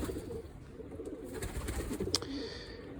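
Pigeons in a loft give soft, low cooing, some of them sitting on eggs in their nests. The sound is faint and continuous under a quiet background, and no one speaks.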